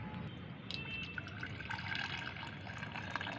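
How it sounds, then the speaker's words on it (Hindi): Cooled homemade organic fertilizer liquid is strained through a sieve, giving a steady soft trickle and splash of liquid that continues throughout, close and fairly quiet, with no talking. "फ्रेंड्स, अच्छी तरह से ठंडा होने के बाद इसे छान लेना है।"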